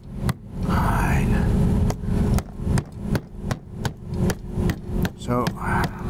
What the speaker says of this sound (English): use a hammer.